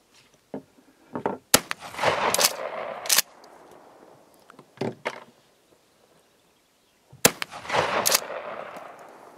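Several sharp shotgun shots from a Remington 870 Express Magnum deer gun firing zinc slugs crack out in separate bursts, loud and close, with short echoing tails and quiet gaps between them.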